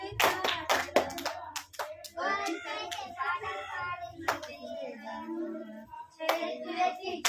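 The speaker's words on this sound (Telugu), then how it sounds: "చేతులెత్తి చప్పట్లు కొట్టి పాడెదము" Children and adults at a church Sunday school sing a devotional song and clap their hands along in sharp rhythmic bursts, the claps loud and close over the voices.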